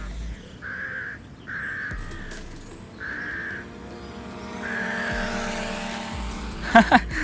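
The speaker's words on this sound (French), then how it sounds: "vous voyez l'oiseau, c'est incroyable. On est avec les oiseaux" Near a DJI Mini 3 Pro drone, crows caw outdoors in repeated harsh calls, several in a row with short gaps, over steady background noise and a couple of sharp knocks near the end.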